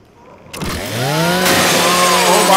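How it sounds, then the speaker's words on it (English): Lancer rifle chainsaw from Gears 5 starts with a sharp kick, then revs into a steady, loud, close-up grinding drone that climbs in pitch and holds to the end. "Just use your Lancer's chainsaw."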